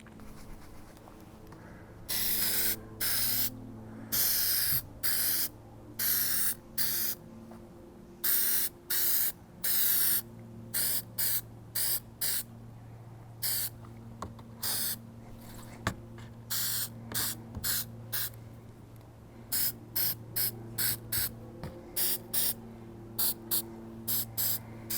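Spray-on rust fix hisses from an aerosol can in a long series of short, sharp bursts with brief gaps, fairly close and alone without speech.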